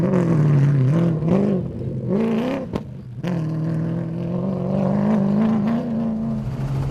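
The RFS Motorsport BMW X3 cross-country rally car in the Toyota Dealer 450 drives past loud and close, its engine revving and shifting with rising and falling pitch, then droning steadily.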